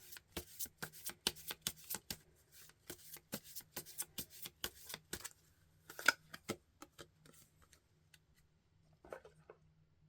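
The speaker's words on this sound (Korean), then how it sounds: "마지막으로 두 분 관계를 위한 좋은 카드 한번 뽑아보도록 할게요" A tarot deck is shuffled and a card drawn: quick bursts of crisp riffling clicks, pauses, then a few scattered soft taps, close and quiet with no speech.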